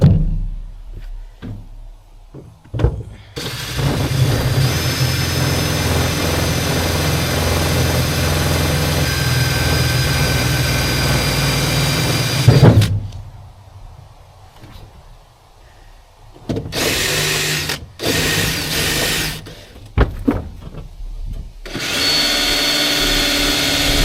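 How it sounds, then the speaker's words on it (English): A power drill whirs steadily for about ten seconds, then stops and restarts in shorter bursts, close and loud. "I hate drilling with a passion."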